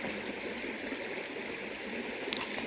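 Water running through a channel in a sugarcane field, a soft, steady trickling flow, faint and continuous.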